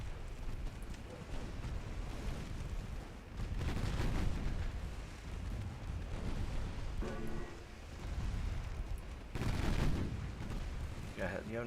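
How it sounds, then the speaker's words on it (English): Torpedoes firing from a warship in Ultimate Admiral Dreadnoughts, amid continuous rumbling naval gunfire with repeated heavy booms and bursts throughout. "So there goes some torpedoes."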